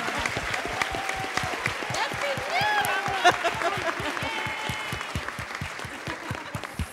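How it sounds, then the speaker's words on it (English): Audience at a family strengthening summit applauding children on stage, steady rhythmic clapping from a moderate crowd, with some voices and cheers mixed in over it. "can you give a round of applause to these kids?"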